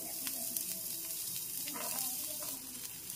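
Chopped carrots and beans fry in oil in a pan for a vegetarian sabu pulao, a soft continuous sizzle with a few light stirring scrapes, fairly quiet and close, with no talk.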